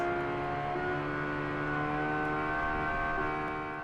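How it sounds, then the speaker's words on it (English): A 3-liter dual overhead cam naturally aspirated V10 in the Automation car game, holding a steady, loud, smooth harmonic drone with no talk over it. "Tank bringing in the 3-liter dual overhead cam V10 to the field"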